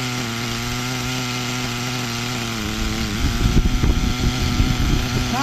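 A small nitro RC car engine buzzes loudly at high pitch during carburetor tuning, holding a steady whine before turning rougher and sputtering near the end.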